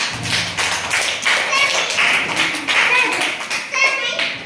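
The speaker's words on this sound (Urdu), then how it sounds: "very good, تالیاں" A classroom of third-grade children claps for a classmate, a loud, ragged burst of many small hands close by, with a voice mixed in.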